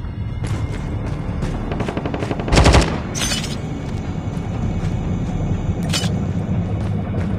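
Defensive turrets fire in the Undead Siege video game: a loud, dense rattling burst of gunfire near the middle, with shorter bursts before and after over a steady rumbling game background.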